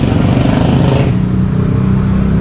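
A new heavy-duty concrete mixer with a Honda-type engine runs loud and close, a rough revving drone that drops partway through and then settles into a steady idle hum.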